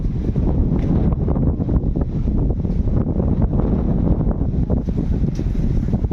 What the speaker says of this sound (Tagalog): Sobrang mahangin dito